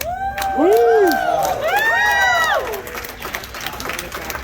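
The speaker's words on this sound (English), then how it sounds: "I heard some cheering." A lively crowd at a convention event cheers and whoops loudly, with sliding shouted calls and scattered claps fading into lighter applause and murmurs.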